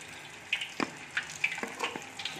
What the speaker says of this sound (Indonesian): Baru kita masukkan, kita goreng.